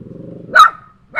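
A dog gives two sharp barks, close and loud, the first rising out of a low rumbling growl, with a short silence between them.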